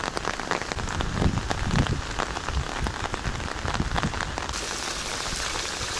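Steady rain pours down in Antalya by the sea, pattering densely on surfaces with a constant wash of drops, fairly loud and unbroken throughout, no voices.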